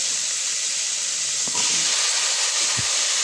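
Tomatoes added to a hot pan of chicken afritada give off a steady, loud sizzle and hiss, with a couple of faint clinks partway through and no talking.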